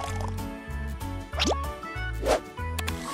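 Syrup pours into a blender with kiwis while making fruit slushies, a short liquid gurgle and drip heard close over light background music.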